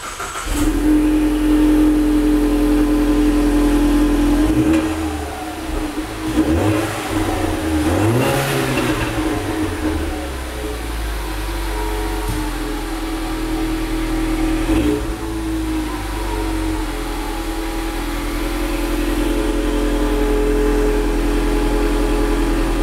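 A turbocharged Mustang EcoBoost engine fitted with an MBRP 3-inch catted downpipe idles with a deep rumble, then revs up and settles several times, loud and close, with no talking.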